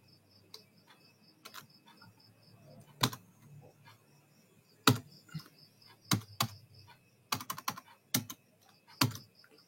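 Sparse, quiet clicks of typing on a computer keyboard, irregular taps and short bursts of keystrokes in a calm room, with faint background hum.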